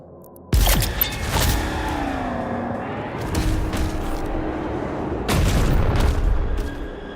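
Heavy grenade launcher blasts in DOOM The Dark Ages: a loud booming explosion with a long rumbling tail, then a second powerful blast a few seconds later over a continuous low roar.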